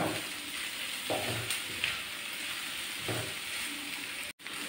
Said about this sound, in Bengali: আর একটু ভালো করে নেড়ে চেড়ে নেব।